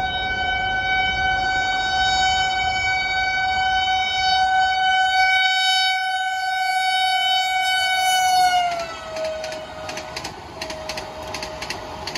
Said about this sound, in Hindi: तो जी वंदे भारत बिल्कुल आने वाली है